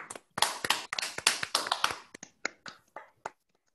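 A small conference audience claps briefly after a talk: a burst of close handclaps thins into a few scattered claps that fade out within a few seconds.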